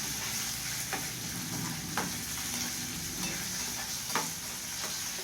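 Onions and curry leaves sauté in a pan with a steady close sizzle, while a spoon stirs and scrapes at a few scattered moments.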